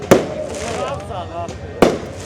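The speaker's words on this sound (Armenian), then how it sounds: "Հրավառություն կազմակերպված, ինչ առիթով չգիտեմ։" Fireworks go off at a lively wedding celebration: two sharp, loud bangs about two seconds apart, with people talking between them.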